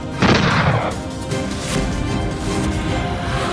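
A single sharp gunshot-like bang in a Bengali TV serial drama, loud and close, with a burst of noise that fades into a reverberant tail and lingering background music.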